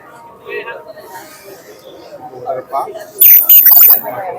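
Pigeons at the Mirpur pigeon market on a hot, humid day let out short squawks and chirps, up close among the stalls. Nearby people talk over them, and a burst of sharper, louder calls comes near the end.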